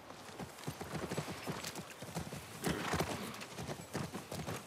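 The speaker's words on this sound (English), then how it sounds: "That's our horse." Horse hooves clip-clopping steadily near a ranch in The Last of Us Part 1, with a whinny mixed in, close and clear and carrying through the whole stretch.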